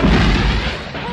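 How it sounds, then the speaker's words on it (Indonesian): A burning ship exploding in a film, a heavy low boom that rumbles loudly at the start and slowly decays across the moment, with no voices over it. "Kapal yang terbakar itu akhirnya meledak"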